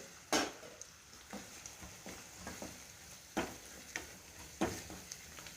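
Grated wet coconut and onion are stirred and sautéed in a pan, soft sizzling under occasional sharp scrapes and taps of a spoon against the pan, close and fairly quiet, no voices.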